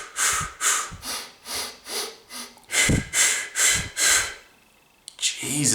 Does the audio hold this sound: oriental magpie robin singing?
no